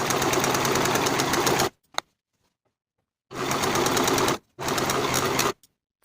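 A sewing machine finishes the side edges of a sleeve, running in three steady, loud bursts of rapid stitching separated by short silences, with a click as it stops.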